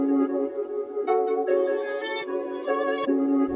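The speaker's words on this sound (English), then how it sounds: "it's actually a guitar phrase bank from Contact. So it's this Scoring Guitars by Heaviosity" A sampled Heaviosity Scoring Guitars Kontakt phrase plays a short sustained melodic guitar line, loud and close, with note changes roughly every half second and no talk.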